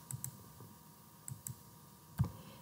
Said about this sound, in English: I'm going to click to select these hearts